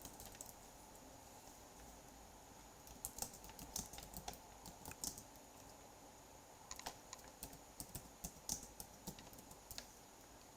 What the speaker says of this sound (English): So let me type this really fast.